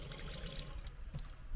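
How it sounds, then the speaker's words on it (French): Water runs from the tap of a small sink in a converted Fiat Scudo van, a soft, steady, faint hiss and trickle that continues throughout with no voices. "ici on a donc le petit évier avec le robinet"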